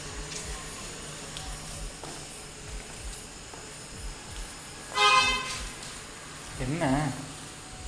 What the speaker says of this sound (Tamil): கார் ஹார்ன் அடிச்சிருக்கேன், ஜர்க்கா வர.